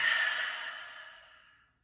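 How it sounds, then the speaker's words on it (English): A long, breathy exhale following a deep inhale during a gentle floor exercise routine, close and soft, fading steadily to silence over about two seconds with no talking. "Take a nice big breath in, a long breath out."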